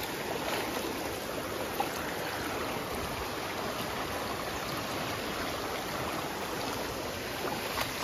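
Water of a small forest stream in the Konkan countryside flows in a steady, continuous rush, close and even throughout with no voices.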